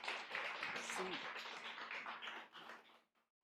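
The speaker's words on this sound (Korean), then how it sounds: "큰 박수 부탁드리겠습니다." A church congregation claps in a dense, fairly faint spell of applause that stays steady, then tapers and stops abruptly after about three seconds.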